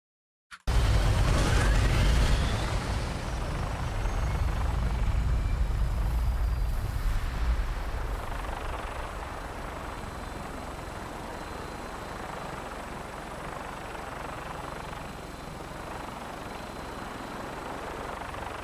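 An aircraft drones in flight in the Fallout 4 game, a loud steady engine rumble that eases slightly partway through, then holds at a constant level.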